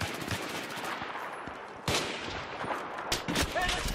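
Bursts of automatic gunfire from Battlefield 3 crackle over a noisy battlefield backdrop. Several sharp, close shots stand out near the middle and end.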